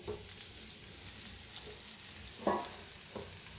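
A methi paratha sizzles in ghee on a hot tawa with a soft, continuous hiss and a few brief louder crackles, quiet and close, with no talking.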